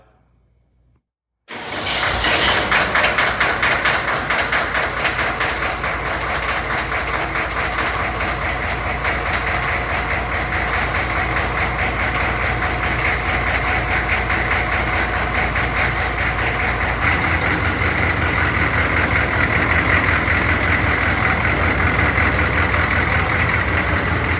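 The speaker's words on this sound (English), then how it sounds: "I'm gonna start up the engine and see how it moves" After a moment of near silence a turbocharged Humvee engine starts up abruptly and settles into a loud, steady, rattling idle that runs on without pause, its drive belt loose and bouncing.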